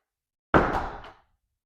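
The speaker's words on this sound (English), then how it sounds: "Shut the door." A door swings shut with a single solid, close thud that fades quickly, heard alone during a dog door-manners training session.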